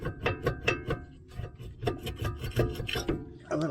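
A brake pad is pried out of the caliper on a 2020 Ford Edge Titanium, producing a series of short scraping, grinding rasps in uneven bursts, fairly quiet and close.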